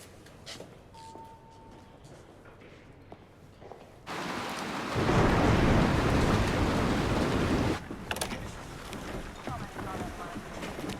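A thunderstorm with heavy rain: a steady broadband roar of downpour swells loudly in the middle, then falls back to a quieter, rumbling background of rain and wind.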